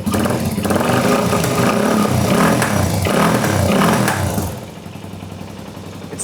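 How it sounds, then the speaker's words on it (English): Motorcycle with an unbaffled exhaust pipe and a poorly set fuel mix revving hard, loud and close, with rising and falling engine roars before dropping to a rough, popping idle. "turns on and it revs. It's very loud, and the pipe has no baffling in it."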